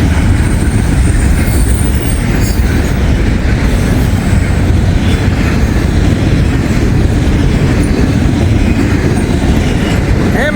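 Southbound freight train with road slug units rolling past a crossing, a steady loud rumble of wheels with rhythmic clickety-clack and faint wheel squeal throughout.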